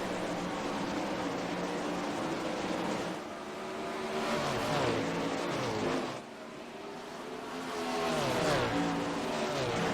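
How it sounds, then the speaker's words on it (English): Several 410 sprint car engines from a racing sim race nose to tail, a loud, continuous roar whose pitch keeps climbing and falling as the cars rev through the turns, with no talking. "Nose to tail 410 sprint car action."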